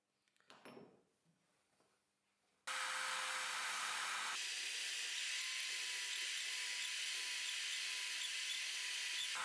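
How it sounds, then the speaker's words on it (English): A drill bit bores a hole for the pipe of a router base plate on a circle jig; after a quiet, shuffling start a loud, steady high whine kicks in abruptly and runs to the end, shifting pitch once partway. "I mark the center and drill a hole with a bit"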